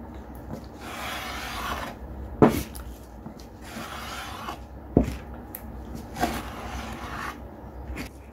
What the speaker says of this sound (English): I'll try this scraper first, see what happens.